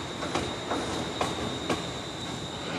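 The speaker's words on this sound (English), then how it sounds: "all the crazy noises of the train station are just really comforting for you" Trains at a platform in Central Station, with a steady rumble, a high wheel squeal ringing throughout and a few sharp rhythmic clacks as cars roll past, heard at moderate distance with no talk.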